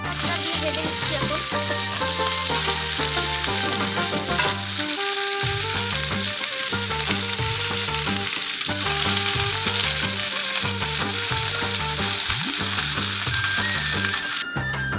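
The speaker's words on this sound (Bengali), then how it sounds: "এটাকে এখন ভাজা করে দেবো, ভাজা করবো কিছুক্ষণ।" Pumpkin greens and garlic fry in a pan with a continuous bright sizzle throughout, partly masked by loud background music playing the whole time.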